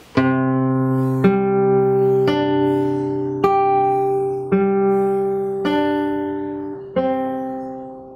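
Guitar played fingerstyle, slowly picking single notes: seven clear, ringing plucked notes, one about every second, each sustaining into the next.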